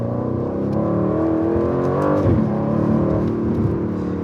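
Aston Martin V8 Vantage twin-turbo V8 engine and exhaust drone loudly from inside the moving car, with a rise in revs and a shift midway.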